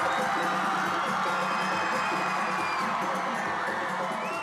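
Crowd of sports fans cheering and whooping at an airport homecoming for a victorious rugby league team, a dense continuous wash of shouts and yells heard from a distance.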